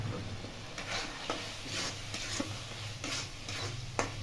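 Green peas being stirred in a wok during a dhaba-style matar paneer, with a steady low sizzle and a scraping spatula stroke about every half second, close and fairly quiet.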